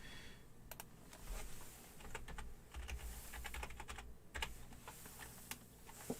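Typing on a computer keyboard during a livestream, a steady run of quick clicky keystrokes with short pauses, fairly close and alone over a low background hum.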